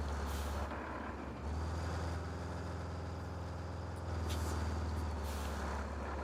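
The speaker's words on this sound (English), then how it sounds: "big truck tire and engine sounds, incredibly satisfying sounds to listen to," A heavy truck in the game Roadcraft idles and rumbles with a steady low engine drone, and loud hissing air-brake releases come at the start and again near the end; no talk.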